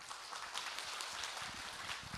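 An audience at a real-estate tax seminar gives sustained applause to welcome a tax accountant to the stage, a dense, even patter of many hands clapping at moderate volume with no voices over it.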